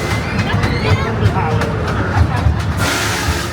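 A ride train at Drayton Manor theme park rumbles and clatters along the track close by with a steady roar, while voices chatter over the noise.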